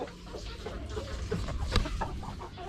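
Native roosters kept by a backyard raiser cluck on and off outdoors, several soft calls overlapping in a moderately quiet, busy scene.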